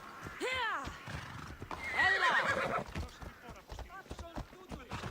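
A horse in the video game Assassin's Creed Odyssey neighs twice in loud, close whinnies, with hooves clip-clopping around them and a voice speaking briefly.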